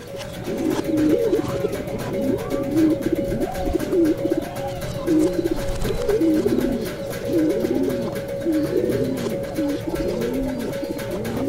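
Steady, rolling coos from a racing pigeon, an apple-bodied fast flyer kept by a fancier in Zambales, repeat in overlapping phrases for the whole stretch, close and fairly loud, with no talking.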